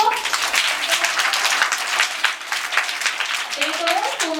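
Children clapping together at a school fruits day celebration, a dense patter of many hands that goes on without a break, close and loud, with a voice faintly heard near the end.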